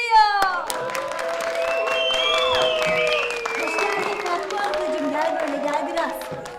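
A studio audience claps to welcome a female contestant onto a Turkish comedy show set, applause swelling and holding steady while voices chatter and music tones run through it.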